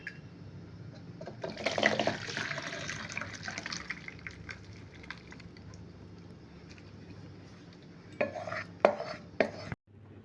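Thick vermicelli payesh made with new jaggery is poured from a pan into a bowl, giving a wet, sloppy pour in the first few seconds, then a few sharp clinks of utensil on bowl near the end, close by with no talking.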